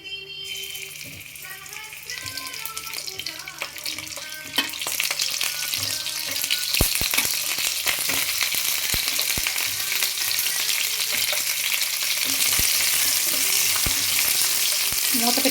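Cut bitter gourd pieces drop into hot oil and sizzle, growing into a loud, steady frying hiss with occasional spoon scrapes as they are stirred in the pan.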